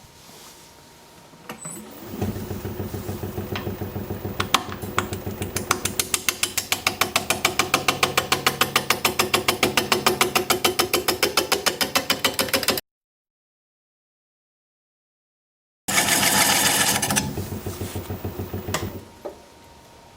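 A large piece of wood spins on a lathe as a tool makes a cutting pass. The loud, steady rhythmic chatter rattles on for about ten seconds, drops to silence, then resumes briefly before fading out.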